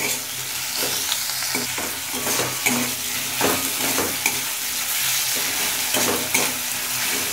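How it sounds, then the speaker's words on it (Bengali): Tomatoes salted and frying in a pan for a yam and prawn curry, a loud close sizzle broken by regular spatula scrapes and stirring knocks, steady throughout with no voices. "এবার কিছুক্ষণ ভেজে নেব"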